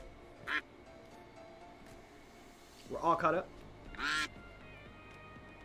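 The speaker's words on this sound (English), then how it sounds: "Still got the duckies quacking, I think." Cartoonish duck quacks from a duckie race play in short bursts, one brief call then a louder cluster and a final quack, over faint background hum while a person talks.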